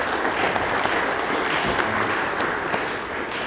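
An audience at a real estate flippers panel meetup breaks into steady, dense applause that stays loud and even throughout, with no break and no talk on top.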